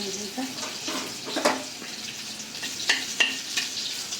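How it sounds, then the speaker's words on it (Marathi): Garlic sizzling in hot oil in a pan, following cumin seeds, for a spicy besan vadi masala; a steady crackling fry with a few louder stirring bursts, close by and fairly loud. "आता हे लसण टाकायचं लसण लाल"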